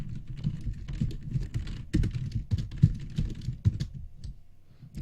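Rapid clicking keystrokes on a computer keyboard as a paragraph is typed, irregular bursts of close dry taps that thin out toward the end.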